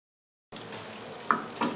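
Desi ghee poured into a pan for halwa sizzles with a steady, soft frying hiss, broken by two quick clinks of a spoon stirring against the pan.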